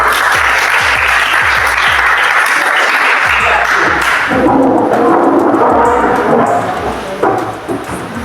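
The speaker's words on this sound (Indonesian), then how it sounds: "tepuk tangan dulu" A classroom of students claps in a loud burst that shifts partway through, with heavy thumps and knocks near the microphone mixed into the clapping.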